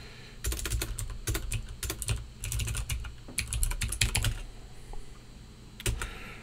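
Fast bursts of typing on a computer keyboard, clusters of crisp key clicks separated by brief pauses, close and fairly quiet, with a final short run near the end.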